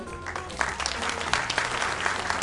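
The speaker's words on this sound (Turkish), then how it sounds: "bu güzel fotoğrafı da lütfen alkışlayalım" Applause at a Karabük, Zonguldak and Bartın regional promotion days event in Kağıthane rings out moderately loud and steady through the short stretch, with a faint voice underneath.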